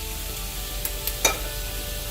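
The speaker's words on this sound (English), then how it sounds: "Let's grill one side, and I'm basting the second side with the glaze." Chicken basted with orange balsamic glaze sizzling on a grill, a steady close crackle with three small sharp ticks near the middle.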